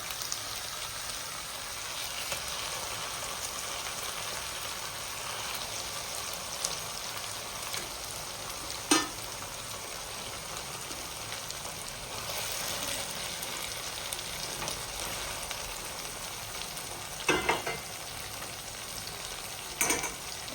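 Fried rohu fish simmering in a spice masala for a Bengali fish curry, a soft, steady sizzle like light rain with a few sharp stirring clicks, close and continuous.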